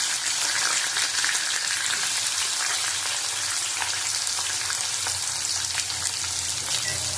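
Onions sizzle and fry in hot oil with bay leaf and whole garam masala as the base for a chicken kosha, a steady close crackle running unbroken throughout with no voices.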